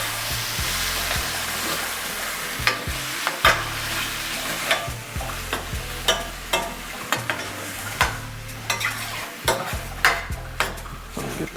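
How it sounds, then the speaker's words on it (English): Smoked chicken thigh filling sizzling in a hot pan while being stirred, a continuous frying crackle under repeated scraping and clacking strokes of a utensil, close and fairly loud. "Get this all mixed up."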